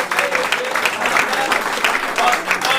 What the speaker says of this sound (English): big round of applause for Team Yellow